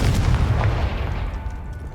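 A heavy boom from the Confringo blasting spell in the video game Hogwarts Legacy, loud and deep at first, then a rumbling tail that fades over about two seconds.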